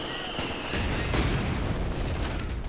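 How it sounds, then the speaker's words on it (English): Rifle and machine-gun fire from German Grenadiers in Company of Heroes 2, a 4v4 battle on Red Ball Express, crackling as steady overlapping bursts amid booming artillery and battle noise throughout. "Grenadiers opening fire."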